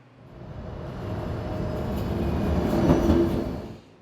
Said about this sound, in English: The Buffalo Metro Rail is the local light rail train.